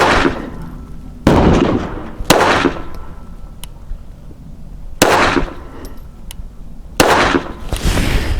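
Pistol shots from a P17 handgun fired during a qualification course of fire, four sharp loud reports spaced irregularly over several seconds, each with a short echoing decay.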